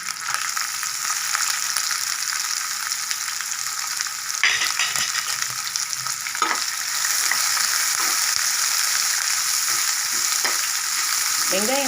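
Onions sautéing in a pan for beetroot poriyal after curry leaves, a steady loud sizzle throughout with a few brief scraping stirs, no voices.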